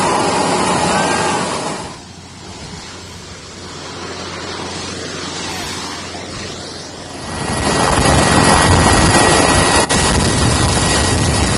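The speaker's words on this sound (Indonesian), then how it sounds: "warga nekat mendekati helikopter TNI AU yang membawa bantuan logistik" Indonesian Air Force Caracal helicopter delivering flood relief supplies, its loud rotor and engine roar dominating throughout, dipping briefly then swelling louder near the end, with no talk.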